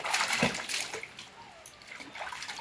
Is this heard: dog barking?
no